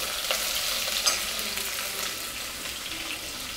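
Sliced onions fried in oil with cumin give a steady, close crackling sizzle with occasional stirring scrapes throughout, heard alone without talk.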